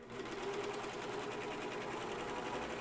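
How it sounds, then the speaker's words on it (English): A serger stitches a pocket onto a fabric project bag, running at a steady high speed with a constant whirring hum for the whole stretch, close and unbroken. "Using the serger, I just, that's 2 sides."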